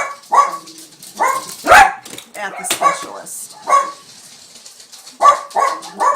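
Dogs bark indoors in short bursts scattered through the clip, mid-distance and fairly loud, overlapping a person's ongoing talk.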